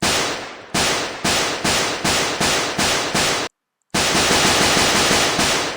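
Rapid bullet fire from a student-made computer game, a repeated loud burst of shots in an even rhythm with a brief silent gap, each shot fading quickly, with no talking.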